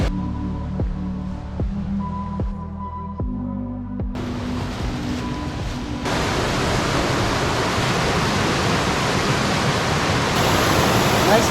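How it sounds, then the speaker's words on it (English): A small waterfall beside a pond at Mandaram Nuwara, Sri Lanka, comes in as a steady, full rushing roar after several seconds of music, then continues unbroken to the end. "Nice pond and small waterfall, but cute."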